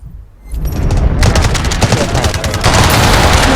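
Dense automatic gunfire in the mobile shooter game Delta Force Mobile starts after a brief quiet, then runs as loud, rapid, overlapping bursts of shots close by.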